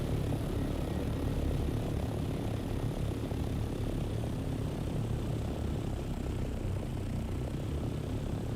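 A Thopter ornithopter engine in the desert survival game Dune Awakening roars in a steady, dense drone with a deep rumbling low end and airy high hiss, unbroken and close throughout, with no voices.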